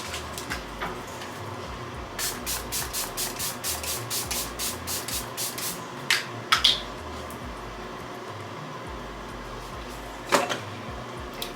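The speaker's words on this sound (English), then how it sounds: "I'm gonna just use my Milani Make It Last setting spray." A rapid run of about a dozen short pumps of Milani Make It Last makeup setting spray hisses out in quick rhythm, followed by a few scattered clicks and one more spritz later.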